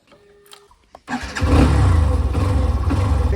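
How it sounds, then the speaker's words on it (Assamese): After a few quiet clicks, a motorcycle engine cranks and catches, then settles into a loud, steady throbbing idle close by. "বাইক ষ্টাৰ্ট কৰিলোঁ"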